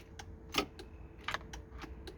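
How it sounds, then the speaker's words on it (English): Inside a Land Rover Discovery 2 that won't start, a series of faint, sharp clicks comes from the starter as the key is turned, about eight irregular ticks with one louder snap, and no engine cranking. "All we get is a click."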